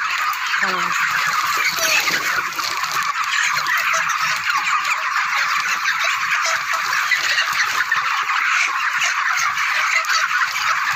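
Chickens clucking and squawking continuously, a busy flock close by with overlapping calls and constant background chatter.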